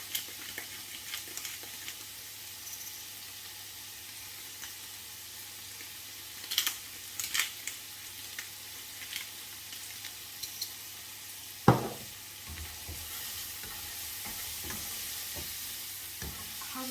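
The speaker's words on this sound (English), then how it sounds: "Here it's sizzling nicely, you can start to smell the garlic." Garlic sizzles softly and steadily in a frying pan over low heat, with occasional clinks and stirring sounds, a sharp clatter midway, and no talking.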